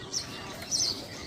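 Baya weaver birds at their woven nest give a couple of brief, faint high chirps over a steady outdoor hiss.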